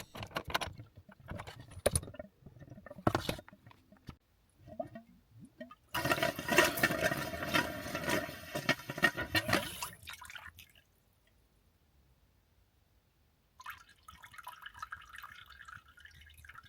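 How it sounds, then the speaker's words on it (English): Water rushes through household pipework to a loft overflow valve, starting and stopping in bursts with gurgling surges and brief quiet gaps between them. "turning the water on and off to try and blast it through"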